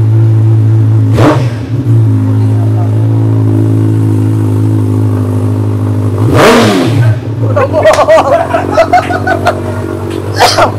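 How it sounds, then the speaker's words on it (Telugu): A motorbike engine idles with a loud, steady rumble and revs sharply twice, followed by clattering and voices nearby. "మనం ఎక్సలేటర్ గుంజుతున్నాం కాబట్టి సౌండ్ కి మనలు అటుపోయారు"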